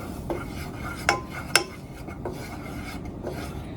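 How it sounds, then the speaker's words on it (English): A spoon stirs in a cooking pot, scraping and rasping around the sides with several distinct metallic clinks, close and fairly loud, with no talking. "Now you're gonna use the spoon to mix it around, so it's fully around the pot"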